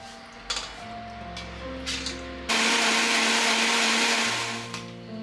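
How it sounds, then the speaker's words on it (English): A blender whirs loudly, grinding soaked white rice and cooked rice with hot water into appam batter. It starts abruptly partway through and runs as a steady roar, with background music before and under it. "Just soaked white rice, some cooked rice, hot water for blending so the texture becomes"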